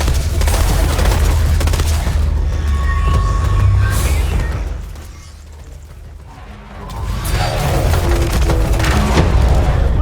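Weapon gunfire in the Borderlands 3 video game, a dense, loud barrage of shots and booming blasts running almost continuously, briefly dropping away midway before resuming, with game music underneath.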